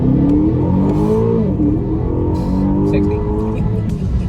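A 2021 Aston Martin DBX or Bentley Bentayga engine revs up loudly on a fast road, its pitch climbing then dipping as it pulls away, with someone speaking over the engine noise.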